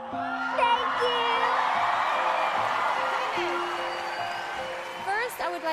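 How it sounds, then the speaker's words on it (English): A talent show audience cheers and whoops loudly in a sustained, wide wash of crowd noise, with music underneath that fades toward the end. "Celine, the crowd is going crazy for you."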